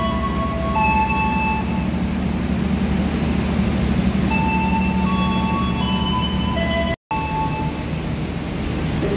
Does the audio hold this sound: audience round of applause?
no